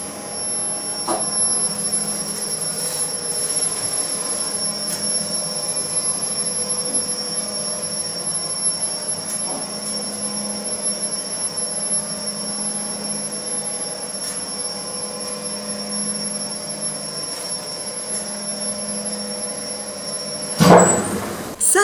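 An Ecodisc synchronous lift motor runs with a steady drone and high-pitched whine, then starts with a sudden jolt that gives a sharp clunk near the end.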